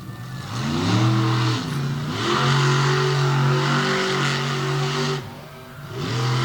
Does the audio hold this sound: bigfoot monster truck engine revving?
yes